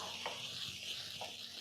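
Carrots, zucchini and other vegetables sizzle in a pan for stir-fry noodles, a soft steady hiss broken by two brief scraping tosses of a spatula, fairly quiet and close.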